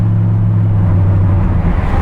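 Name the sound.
car exhaust roaring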